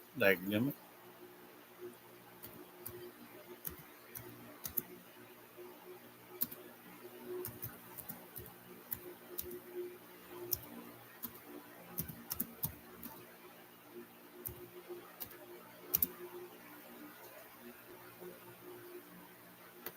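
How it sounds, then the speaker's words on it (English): Typing on a computer keyboard, with scattered light key clicks and taps continuing irregularly over a low steady hum, faint and close by. "Let me type y'all something in here real quick."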